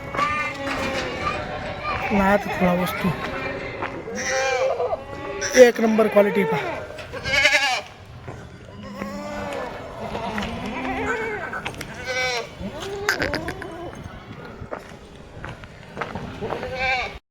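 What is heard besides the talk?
Kathiawadi goats bleating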